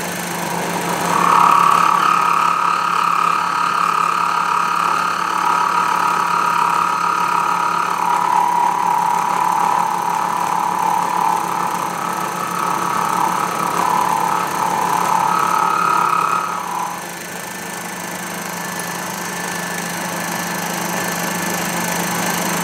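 A Sherline milling machine cuts metal at about 2150 RPM, a steady close whine with a bright tonal edge that shifts pitch midway, then drops away to a lower motor hum.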